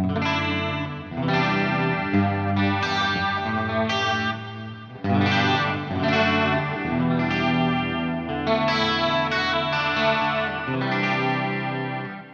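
An electric guitar plays through a NUX Mighty Plug MP-2 headphone amp with a vintage 30 4x12 cab sim, modulation, delay and reverb, loud sustained chorused chords with a brief gap near five seconds, no speech.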